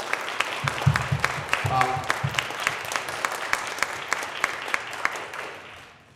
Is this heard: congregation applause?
yes